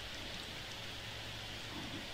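Steady rain falls in The Sims video game, an even hiss of rainfall with no breaks, no voices and no thunder.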